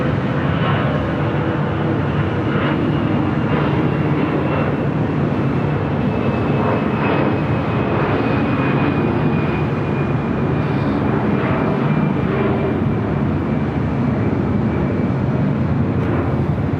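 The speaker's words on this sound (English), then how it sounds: "this is the brand new 787-10 Dreamliner up next for arrival at 7 right." A Boeing 787-10 Dreamliner on arrival to runway 7 right at LAX, its engines roaring steadily and loudly throughout with a faint whining tone, broad and continuous with no break.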